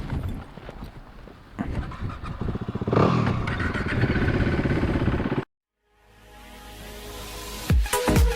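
Kawasaki Ninja 250r motorcycle engine revving up loudly close by, a rising buzzing roar that cuts out abruptly to silence, then an idle or engine noise returns and builds again.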